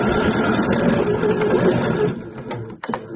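A sewing machine top stitches the folded edge of a mesh laundry bag, a steady close whir for about two seconds before it stops and a few light handling clicks follow.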